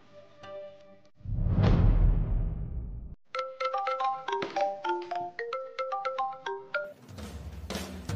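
A mobile phone rings out during a call, a whooshing swell followed by a bright, repeating electronic ringtone melody in quick pulsing notes, close and clear with no talk.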